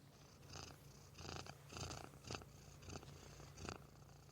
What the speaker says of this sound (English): I want to see if I can get Boo Boo to purr into the mic.